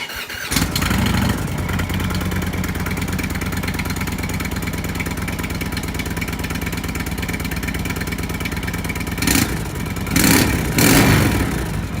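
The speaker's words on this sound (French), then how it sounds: "J'allume la moto. Vous allez voir, le son est incroyable." A motorcycle with a Dr. Jekill and Mr. Hyde exhaust starts up and settles into a loud, throaty idle, with a few sharp revs near the end.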